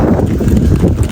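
A horse's hooves clip-clop on a mountain trail at Mount Papandayan in Garut. The steady, loud hoofbeats are close by and continuous, with outdoor noise underneath.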